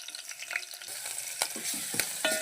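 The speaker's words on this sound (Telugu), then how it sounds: "ఇలా కొంచెం పచ్చివాసన పోయేంత వరకు కొంచెం అలా ఫ్రై చేసేసుకొని" A garlic and pepper paste sizzles and fries in a hot pan, with scraping stirs and crackling throughout, close up and steady.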